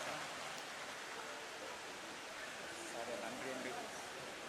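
Heavy rain pours steadily at an outdoor political rally in Kilinochchi, a dense, even hiss filling the scene throughout, fairly faint and distant, with no speech breaking through.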